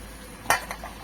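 Meat is stirred in a cooking pot under a soft background sizzle, with one sharp scrape of a utensil against the pot and a couple of fainter knocks after it.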